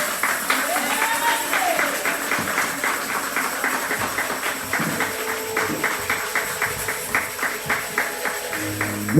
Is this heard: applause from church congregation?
yes